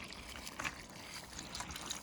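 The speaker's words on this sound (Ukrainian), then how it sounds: "Доливаємо воду поверх нашого всього м'язка." Water poured over meat in a kazan for plov, a faint, continuous trickling and splashing close by, with no speech.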